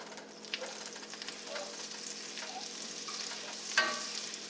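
A quarter stick of butter melts in a pan of oil over high heat, giving a steady close sizzling hiss, with one sharp clack near the end.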